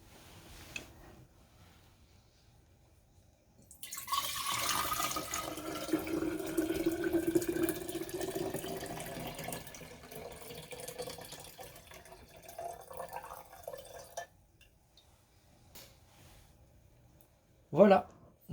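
Tap water runs and splashes while a glass jar used for apple cider vinegar is rinsed, a steady rush lasting several seconds at close range, followed by quieter handling and a sharp clink near the end.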